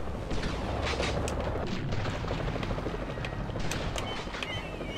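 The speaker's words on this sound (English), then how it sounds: "they're firing frickin' nets at me" Coast guard boats firing nets at a shark in the video game Jaws Unleashed: a dense, loud barrage of booming launcher shots and bursts over a constant rumbling roar of engines and water, continuous for the whole stretch.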